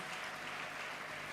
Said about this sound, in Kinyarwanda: Muhe Yesu amashyi menshi